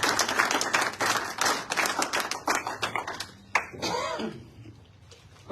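Church conference audience breaks into lively clapping and some cheering, a dense burst of hand claps that thins out and fades, with a brief voice near the end.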